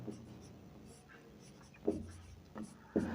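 Pen writing by hand on paper or a board during a Class 6 maths lesson on ratio and proportion, with soft scratchy strokes and a few louder taps near the end, and quiet talk faintly underneath.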